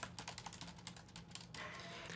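Fast, steady typing on a computer keyboard while an email address is entered, close and clear, with dense clicking keystrokes running continuously and no voices.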